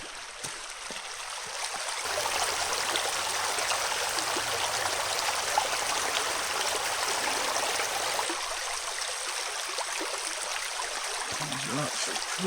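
Stream of water flowing over slick rocks on the Cecil Cove Trail, a steady broadband rush filling the whole stretch, close and continuous with no talk.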